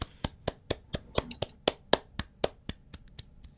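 One person claps alone at a steady rhythm, about fourteen crisp separate claps, close and fairly quiet with no other sound between them.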